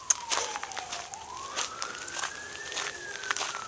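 A distant tornado siren slowly rising and falling in pitch during a summer thunderstorm, with scattered crackles and taps over it.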